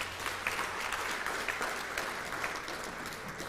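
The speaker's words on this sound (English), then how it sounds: "Let's give the Minister another round of applause." Steady audience applause at the launch of a hairdressing occupational certificate at a TVET college, a dense wash of many hands clapping that holds evenly for several seconds with no voices over it.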